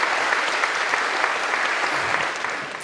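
Sustained, dense applause from a concert audience at a classical Christmas evening, clapping steadily for a solo performer and staying loud and even throughout.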